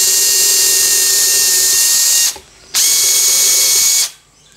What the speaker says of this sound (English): I just want to get a couple of screws in the back of this before I put the switch plate on.